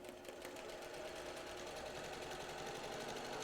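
A sewing machine runs steadily and continuously while stitching a seam on a log cabin quilt block, a close, even mechanical whir with no talk over it.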